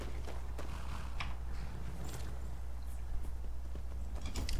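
Horse hooves clip-clop at a steady riding pace in Skyrim, a soft, rhythmic patter over a low constant rumble, fairly close and without talk.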